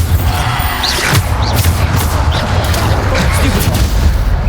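A Bombarda spell explosion in the video game Hogwarts Legacy, a broad booming blast with rumbling low end and crackling debris amid dense battle noise, continuous and loud throughout.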